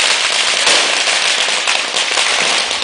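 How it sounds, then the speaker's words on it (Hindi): Fireworks bursting over a celebrating kingdom, a dense, loud barrage of crackling firecracker-like pops and bangs running without pause, with no voices. "विजयगढ़ का आसमान जगमगा रहा है आतिशबाजी से"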